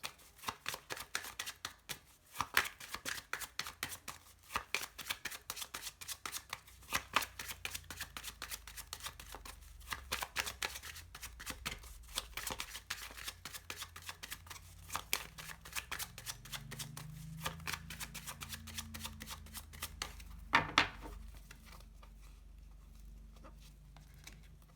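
Lenormand cards being shuffled by hand, a long run of crisp riffling and patting that continues almost without pause, close and fairly loud, with a soft voice murmuring briefly near the end.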